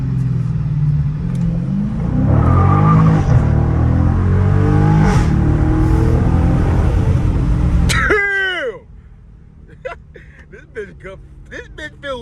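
A 2023 Dodge Challenger Scat Pack Last Call revs hard and accelerates, its loud, rumbling exhaust filling the first eight seconds before dropping off to a quieter drone, with voices in the car.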